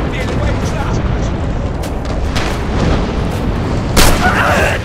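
Dense battlefield din from the video game Red Orchestra 2, with continuous rumbling gunfire and booming explosions, one sharp blast standing out near the end, while a player talks over it.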